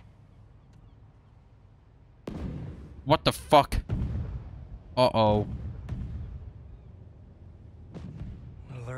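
Explosions like fireworks go off in the Spider-Man 2 video game, a sudden deep boom followed by a few more bursts and rumbling blasts. Voices react loudly over the explosions.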